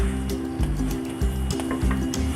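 A paratha fries in a pan with a steady close sizzle, interrupted by soft rhythmic thumps and scrapes as it is pressed and moved around.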